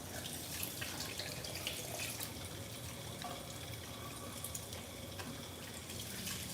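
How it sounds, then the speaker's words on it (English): Tap water running into a kitchen sink for handwashing after chopping onion, a faint, steady splashing hiss that continues evenly without pause. "I need to wash my hands because I'm grossed out."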